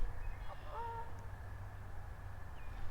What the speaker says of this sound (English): Those geese are excited about the virtual.